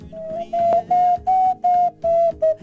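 Ceramic animal-shaped pottery whistle blown in a series of seven steady, sustained tones with short gaps between them, close and clear with no talking.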